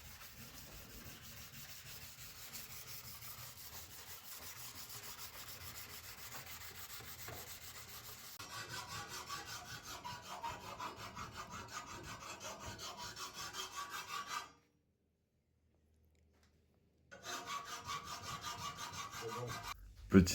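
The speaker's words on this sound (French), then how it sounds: "Voilà, j'ai poncé, j'ai poncé, j'ai poncé." A forged sword blade is hand sanded with a long, steady, rasping rub in continuous back-and-forth strokes, close up, stopping briefly for a silent pause before resuming.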